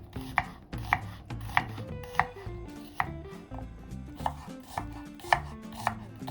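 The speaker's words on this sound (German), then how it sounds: "Dann schneide ich die Zwiebel. So fein wie möglich" An onion is chopped as finely as possible with a knife on a board, crisp regular cuts landing about twice a second, close and clear over soft background music.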